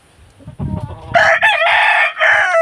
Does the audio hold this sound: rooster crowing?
yes